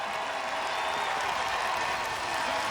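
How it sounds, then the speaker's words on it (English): The home crowd at a Friday night high school football game in Jonesboro claps and cheers, a steady distant roar of applause with a faint announcer voice. "The crowd trying to get loud here in Jonesboro for the home"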